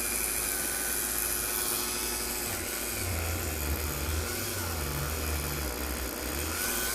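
A Dremel rotary tool on its lowest setting, about 5,000 RPM, spins a polishing wheel against the frets of a Jackson Flying V guitar, making a constant high whine with a low rumble that wavers midway.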